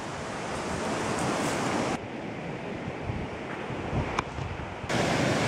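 Ocean waves and surf at a beach in Costa Rica, with a continuous loud roar of breaking water mixed with gusty wind buffeting the microphone and a brief dip in the noise midway.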